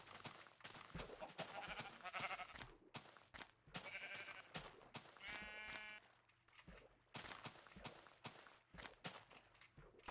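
Grey sheep in the game Minecraft bleat three times in a row, clear and close, over a steady run of footsteps and game background sounds.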